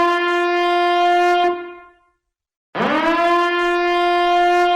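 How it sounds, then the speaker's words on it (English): An alarm siren blares through speakers, loud and tonal, holding a steady wail, cutting out briefly to silence, then rising back up into a sustained blaring tone. "Sirens blare out of speakers as 101 runs down a never-ending hallway"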